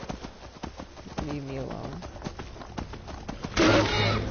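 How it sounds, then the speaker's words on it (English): Hooves of a stolen horse in a video game clip-clop at a steady pace under a voice, with a louder rustling burst near the end. "This is a stolen horse"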